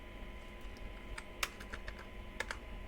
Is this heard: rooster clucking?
no